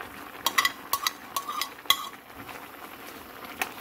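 Shrimp going into a pan of cooked garlic, heard as a run of close metallic clinks and taps from utensil and pan, followed by a faint soft sizzle.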